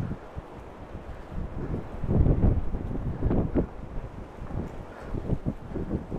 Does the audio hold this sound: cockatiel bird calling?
no